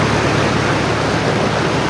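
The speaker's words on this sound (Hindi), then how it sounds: "पानी की रफ्तार बहुत है बहुत ज़्यादा पानी की रफ्तार" Fast-flowing flood water rushes through a village, a loud, steady, unbroken roar of churning water, close and constant with no voices.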